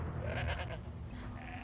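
A goat in Horizon Zero Dawn gives a short wavering bleat, clear and fairly close, over a low steady game ambience.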